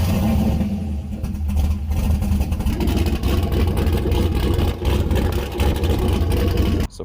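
A turbocharged LS V8 swapped into a Mazda Miata, fitted with a freshly made downpipe, runs loud and close with a deep, uneven idle rumble and brief revs, then cuts off abruptly at the end.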